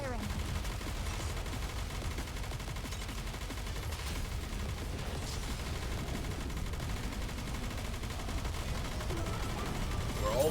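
Continuous rapid gunfire from the Goddess of Victory: Nikke shooter game, a steady dense rattle of automatic shots running for about ten seconds with no break.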